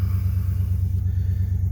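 A 2003 Chevrolet Silverado backup truck's engine idles steadily right after starting, a loud, close, even rumble with a slight rhythmic pulse and no voices.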